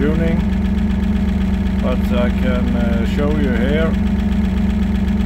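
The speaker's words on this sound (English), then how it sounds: "I am sorry about the engine noise, because I have to run the engine has to be on" A car engine idles steadily with a constant low hum throughout, while someone talks over it nearby during tuning of a hydraulic valve converted from cable remote to servo control.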